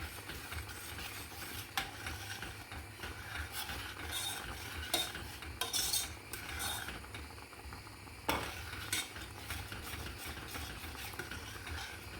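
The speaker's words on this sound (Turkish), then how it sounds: "Nişasta içerisine ekliyorum şöyle. Ve karıştırıyorum." Starch stirred into a thick fruit mixture heating in a pot for fruit leather, with quiet irregular scrapes and knocks of a spoon against the pot over a low bubbling background.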